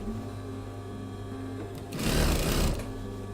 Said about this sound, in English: You're stitching on the edge.